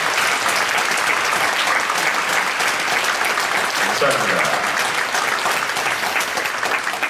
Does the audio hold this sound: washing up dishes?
no